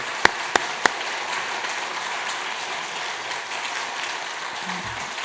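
A church congregation at a Sunday service applauds to welcome someone forward: three sharp clicks at the start, then a steady wash of clapping that fills the room and continues to the end.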